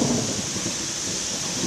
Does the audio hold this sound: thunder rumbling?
yes